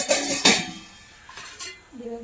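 Steel pots and lids from a utensil kit clink together in a few quick metallic knocks near the start, followed by quieter handling sounds, close and fairly loud.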